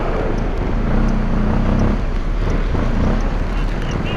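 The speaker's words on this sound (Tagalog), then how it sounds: "Uy, kalakas ng hangin." Strong wind roars and buffets the microphone in a constant low rumble on a cold, foggy mountain road up to Benguet, heard from a moving vehicle.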